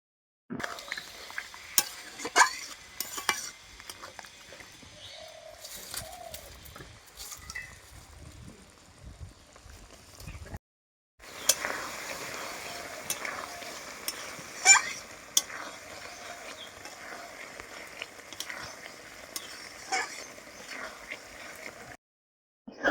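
Tomato and bori (lentil dumplings) cooking in a pan for a raw-tomato chorchori, a soft sizzle with repeated scraping stirs, a short silent break midway, then continued frying and stirring alone.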